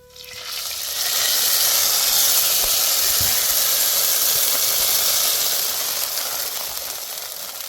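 Spices such as jakhiya and hemp-seed cumin hit four spoons of hot ghee for a khichdi tadka, giving a loud, steady hissing sizzle that swells in the first second and holds close and continuous.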